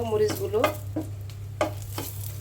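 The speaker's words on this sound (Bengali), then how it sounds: "আমি কিছু শুকনো মরিচ ভেজে নেব" Dried red chillies sizzle in hot oil and are stirred in a pan, with scraping strokes of the spoon over a low, steady fry.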